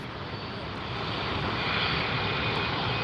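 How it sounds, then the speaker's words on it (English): A Boeing 787 Dreamliner passes overhead at Los Angeles International Airport at night, its engines a loud, steady broadband roar that swells slightly as it nears, with no voices. "Boeing 787 Dreamliner"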